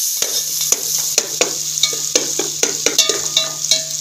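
Potatoes and peas fry with browned onion in a pan, a steady loud sizzle broken by frequent scraping and clattering strokes as the mixture is stirred.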